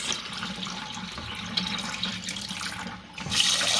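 Tap water runs steadily into a pot of jasmine rice being washed, a continuous close splashing rush that swells slightly near the end.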